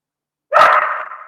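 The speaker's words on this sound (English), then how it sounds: "I'm sorry for the dog barking in the background." A single dog bark rings out suddenly after silence, loud and fairly close, trailing off into a brief ringing tail.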